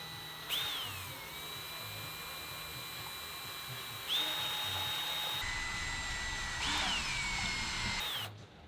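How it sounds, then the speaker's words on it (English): Electric drill with a spade mixer paddle stirring compound for a boat hull overhaul, running in several bursts, each starting with a rising whine that settles into a steady hum, close and fairly faint. "So this is a nice little spade mixer on a drill."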